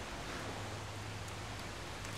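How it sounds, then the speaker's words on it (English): Rain falling in The Solus Project game, a steady, even broadband hiss of downpour with no distinct drops standing out, continuous and close throughout. "Oh, rain now."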